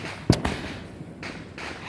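Fourth of July fireworks detonate with one sharp, loud bang and a quick follow-up crack, then softer distant pops and rumbling crackle over the next second and a half.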